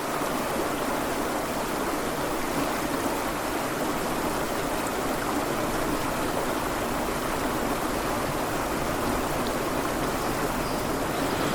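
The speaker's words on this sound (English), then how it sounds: "Here's a pretty river." A mountain creek in Wyoming's Wind River Range flows among trees, giving a steady, close, full rushing wash of water that runs unbroken throughout with no voices.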